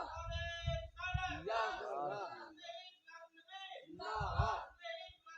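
An audience at an Islamic religious gathering shouts a slogan in unison, two loud swelling bursts of massed voices answering a single leading call, with a reverberant, crowd-filled sound.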